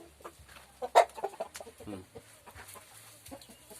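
Chickens cluck and squawk in short, irregular bursts, with one sharper squawk standing out among the softer clucks nearby, as roosters fight.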